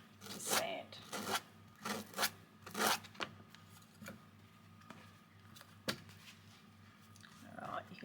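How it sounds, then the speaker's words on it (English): Repeated rasping strokes of fabric edge being sanded with the corner of an acrylic block while distressing a quilt block, a few scratchy bursts close by with quiet pauses between. "using the corner of that acrylic block to give me a really good edge to sand"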